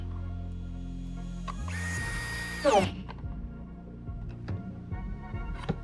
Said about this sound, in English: put the bolts into the part with the same drill and the same drill bit